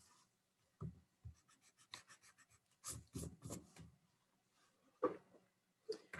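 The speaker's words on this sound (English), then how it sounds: "So I'm going to go ahead and write this word, which is aquarium." Hand-writing on paper: short scratchy pen or marker strokes in irregular bursts with pauses between letters, close and fairly quiet with no talking.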